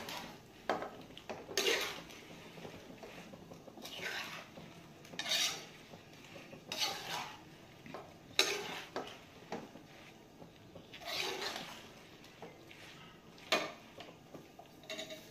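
A red chilli pickle mixture gets stirred in a pan with a spoon, producing repeated scraping strokes and light metallic clinks at an uneven rhythm, close but fairly soft, with no talking.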